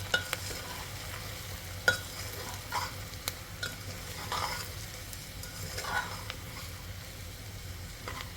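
Masala rice ingredients with two spoons of homemade masala and salt being stirred together in a pan: intermittent spatula scrapes and sharp clicks over a soft, steady sizzle, with no talking.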